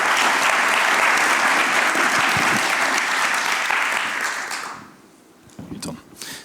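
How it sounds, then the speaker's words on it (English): An audience applauds to welcome speaker Ton Schaap at an Urban Books evening event, the dense clapping loud and steady for about four seconds before fading out, with a few scattered claps and murmurs afterward. "Give him a warm applause."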